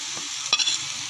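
Spice masala stirred into sautéed onions in a pan, a brief close sizzle with a couple of quick spoon scrapes.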